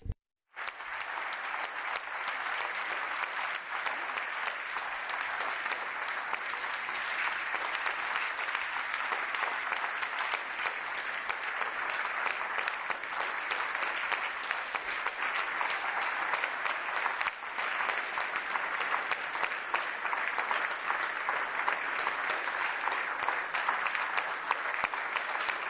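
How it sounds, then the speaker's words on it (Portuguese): A large audience at the 2021 State of the Union address applauds an Olympic gold medalist, producing continuous, thick clapping that holds at an even level for the whole stretch with no talking over it. "um aplauso para ela."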